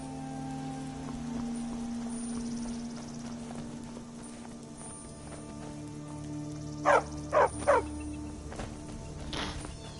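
A dog in Skyrim barks three quick times at mid-distance, then gives one fainter bark, over a steady ambient drone and soft hoof-like clopping.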